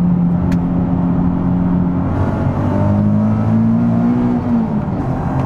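A Nissan 370Z's engine drones steadily, then blips and rises in pitch as the automatic downshift matches revs, heard close and loud from inside the car without talk.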